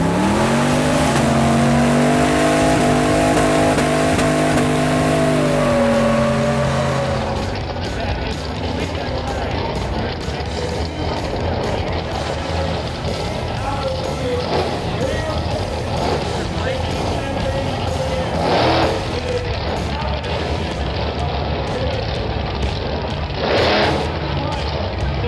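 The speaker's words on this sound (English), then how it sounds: "Though I don't think I have ever seen a bus drag." A bus drag racing revs its diesel engine, a loud rising tone giving way to rough, rattling mechanical roar with a few sharp bursts, mixed with background noise.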